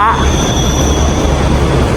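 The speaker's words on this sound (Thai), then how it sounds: "รถไฟฟ้า" Loud, steady rumble of a passing elevated sky train with a faint high squeal on top, continuous and close for the whole stretch.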